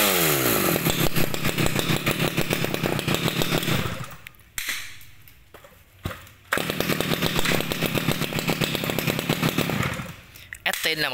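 A Japanese C22 chainsaw engine runs loud and close with a rapid buzzing rattle. It drops to a lower idle for a couple of seconds midway, then revs back up to full throttle.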